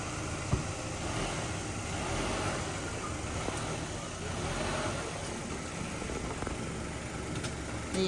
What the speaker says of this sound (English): He's putting it up on the ramps.